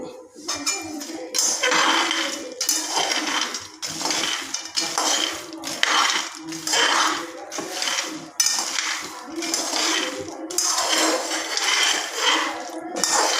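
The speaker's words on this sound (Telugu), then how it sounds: "పల్లీలు వేయించుకోవాలి" Peanuts being dry-roasted in a pan, stirred and tossed in repeated bursts of rattling, scraping clatter, loud and close, with brief gaps between strokes and no talk.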